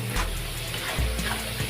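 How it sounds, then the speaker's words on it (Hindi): Water from a glass being poured into a pan of cooked-down masala for pumpkin kofta curry, a steady close splashing pour that runs on without any talk. "अब इसमें हम डालेंगे ज़रूरत अनुसार पानी।"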